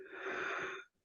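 A single slow, audible exhale during a relaxation breathing exercise, breathy and close, lasting under a second before quiet.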